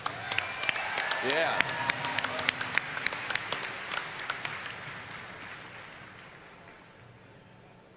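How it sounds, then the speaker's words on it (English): Audience applause at a live World of Warcraft raid event, a moderate crowd clapping that swells early and gradually fades away over several seconds, with a voice briefly speaking over it. "Let's take a round of applause for Paragon."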